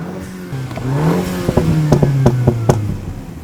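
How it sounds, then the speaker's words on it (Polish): A Mini Cooper S 5-door engine revs up with a rising growl, then its exhaust valve opens and sharp crackling pops and bangs punctuate a steady idle-like drone, loud and close with no talking. "dodatkowo jeszcze otwiera się jakiś zaworek w układzie wydechowym"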